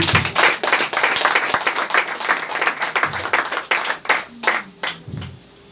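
A church congregation applauds in worship, a dense, steady patter of many hands clapping that thins into scattered claps and fades near the end.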